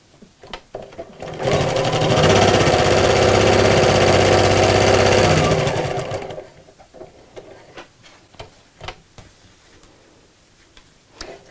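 A domestic sewing machine stitches around the layers of a picnic blanket in one loud, steady whirring run of about four seconds, surrounded by quieter handling clicks and fabric movement before and after.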